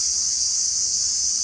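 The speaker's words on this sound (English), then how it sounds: "crickets are loud" Loud, steady cricket chirping fills the whole span as a dense, continuous high trill with no pauses and no voices.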